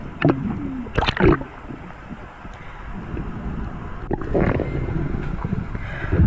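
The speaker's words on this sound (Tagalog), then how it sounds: "Malalaki na po ang alon mga kaspero." Large sea waves slosh and churn around a small boat in open water, with gusts of wind buffeting the microphone and irregular splashes and gurgles rising and falling nearby.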